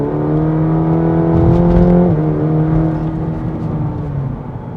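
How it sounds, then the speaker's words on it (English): A 2020 Cadillac CT4-V sports sedan, 325 hp, is held on the brake in race mode with the accelerator floored, and its engine roars at high, steady revs. The pitch dips briefly midway as the tires slip, then holds loud and close. "So I'm going to put the foot on the brake, accelerator all the way down, build."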